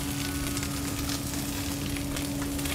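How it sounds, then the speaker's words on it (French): Guinea fowl thigh, skin side down, fries gently in a pan with a little oil, giving a steady, close, continuous sizzle with no voices. "dans une poêle avec un filet d'huile légèrement, je vais cuire que côté peau à petit feu sur le coin du fourneau"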